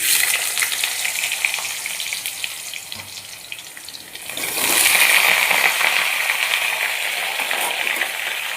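Potatoes fry in oil with black cumin, a continuous sizzle that dips briefly and then swells louder and hissier for the second half.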